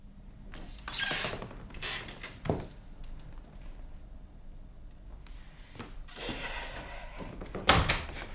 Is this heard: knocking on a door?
yes